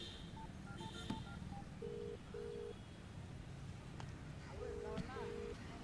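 Mobile phone keypad tones as a call is dialed, a run of short beeps followed by longer paired tones, under steady street ambience and background voices.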